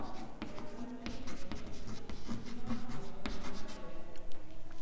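Marker or chalk writing on a classroom board during a maths lesson on triangles, with steady scratchy strokes and short taps repeating for several seconds, close and fairly clear, no talking.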